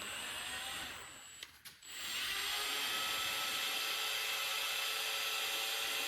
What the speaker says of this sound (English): this bit wants to take off pretty easy through this aluminum, so I'm gonna go slow